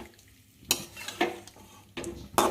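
Marinated chicken is sautéed with fried spice paste in a pan for a ghee chicken roast, giving a few sharp spatula scrapes and stirs over a faint sizzle, quiet and close.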